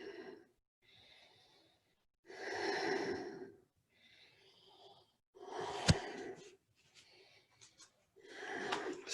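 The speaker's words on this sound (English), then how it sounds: "We center ourselves with a few deep breaths" Slow, deep breaths drawn and released during a Kundalini yoga practice, several long airy inhales and exhales separated by quiet pauses, close and soft with a brief sharper puff midway.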